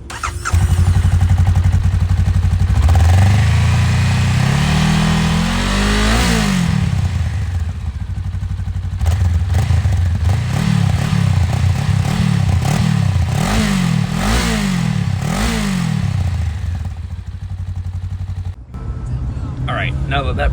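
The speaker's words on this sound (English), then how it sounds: "I'm going to get you guys that exhaust clip that I promised you" A Honda Rebel 500 motorcycle engine starts and idles with a deep exhaust rumble, then revs repeatedly in rising and falling bursts before settling back to idle.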